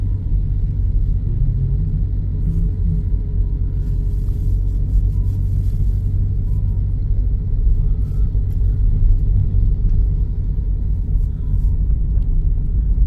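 A car reverses on a forest road at night, its engine giving a steady, loud low rumble that holds evenly throughout, close to the listener, with no talk.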